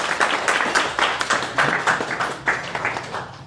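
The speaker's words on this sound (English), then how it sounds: "Clap it up for her." Audience applause at a business franchise and loan event, a steady patter of many hands clapping at moderate volume, fairly close, with no voices over it.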